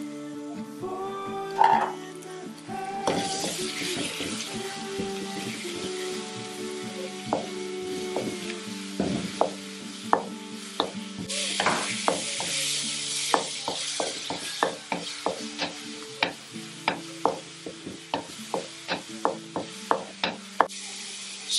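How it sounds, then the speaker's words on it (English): Minced meat sizzles steadily in a pan with rice while a utensil stirs and scrapes, giving a run of sharp, close, rhythmic clicks and scrapes that quicken toward the end over a continuous frying hiss. "So I'll be going in with our minced meat"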